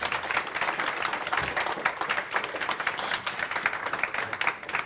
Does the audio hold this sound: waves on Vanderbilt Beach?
no